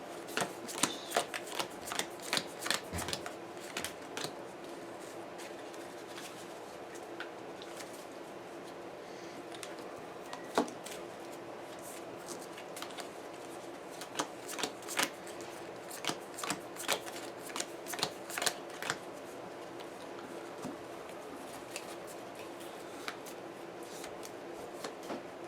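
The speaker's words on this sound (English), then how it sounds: "Definitely are going to want to shuffle these up nice and good." A deck of adventure game cards being shuffled at a table, with repeated crisp riffling bursts and sharp snaps in an irregular rhythm, fairly quiet and close, with no talking.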